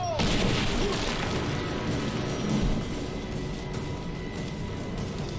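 Gunfire and booming blasts during a firefight in the video game Rise of the Tomb Raider, a dense rumbling barrage that stays loud throughout, with faint shouted voices mixed in.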